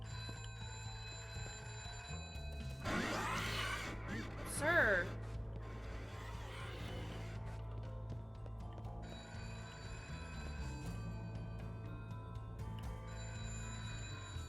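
A telephone rings repeatedly in the video game Happy's Humble Burger Farm, a steady electronic trill running under a humming game background, while a person gasps and speaks briefly over it.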